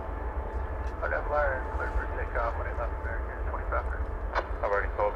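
An American Airlines Boeing 737-800 jet rumbles steadily at DFW Airport. A continuous engine roar sits under nearly constant close talk and some radio-like chatter.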